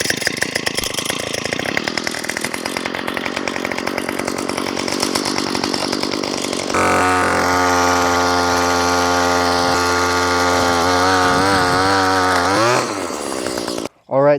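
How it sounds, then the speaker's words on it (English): Small choked weedeater engine fitted to a bicycle buzzes loudly and continuously close by, then jumps to a higher, rougher rev for several seconds before cutting out abruptly near the end. "now we should be able to get it going and take it for a spin"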